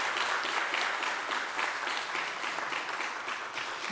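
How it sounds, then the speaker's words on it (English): Audience applauding three new community schools at a city announcement event, a steady dense wash of clapping that holds for several seconds with no voices over it. "Can we give these schools a round of applause again?"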